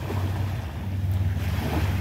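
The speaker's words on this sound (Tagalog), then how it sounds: "Maalon ang dagat." Rough sea seen from a catamaran heading to another island, a continuous loud wash of waves and water rushing alongside with a low engine hum and wind buffeting the microphone, no talk.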